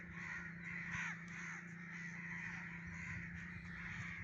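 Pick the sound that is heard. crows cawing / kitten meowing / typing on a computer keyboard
crows cawing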